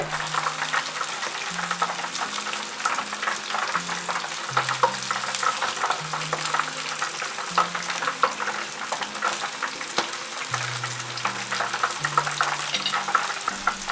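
Shrimp wrapped in egg noodles deep-fry in oil heated to 180 degrees Celsius, a continuous dense bubbling sizzle, close and steady throughout, with soft music underneath and no talking.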